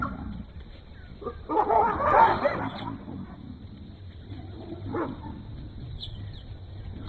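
Dogs barking at baboons in South African wild country, a burst of yapping and excited barks, followed by a few softer, scattered yips over quiet outdoor ambience.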